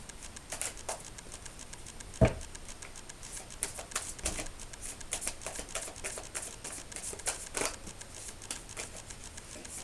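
Tarot cards being shuffled: a quiet, steady patter of soft card flicks and riffles, close by, with a few sharper taps scattered through, no voices.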